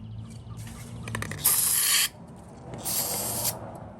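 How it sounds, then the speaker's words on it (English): Two bursts of hissing aerosol spray on 1999 Yamaha R1 motorcycle carburetor parts, each lasting about half a second, preceded by light rubbing and clicking sounds close by. "Oh, I forgot to spray everything down. let's get that done."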